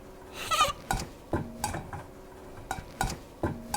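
Cookie ingredients being stirred in a bowl, giving a few soft scraping and clinking strokes of a utensil against the bowl at close range, fairly quiet and without speech.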